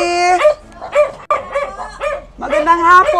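Multiple dogs at a house bark and yelp in quick, uneven bursts with whimpering, howl-like tones, close and loud.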